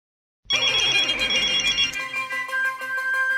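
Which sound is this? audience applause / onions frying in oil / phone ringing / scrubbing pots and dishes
phone ringing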